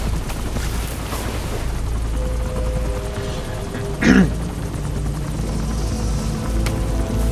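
A helicopter in the Metal Gear Solid V video game, a steady low rotor drone and rumble running throughout, with a brief louder thump partway through and no speech.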